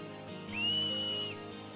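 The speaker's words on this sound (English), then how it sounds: "It's a whistle, Yuna." A sharp, rising two-finger whistle in Final Fantasy X, used to cheer on Blitzball players, holds steady for about a second over soft background music with no talking.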